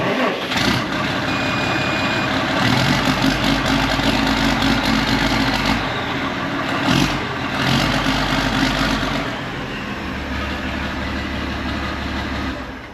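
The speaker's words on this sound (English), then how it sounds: "Just jump in there, start her up for a second." Old tractor started cold after sitting about ten days, its engine settling into a steady, loud, rumbling idle with some clatter and a high whine, close up and running throughout with no talking.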